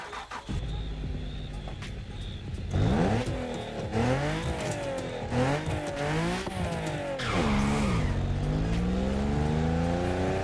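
Video game car engines from The Crew Motorfest with swapped engines, including a V6 JDM unit, rev and rise and fall in pitch through repeated gear shifts, loud and close, with tire squeal and no talking.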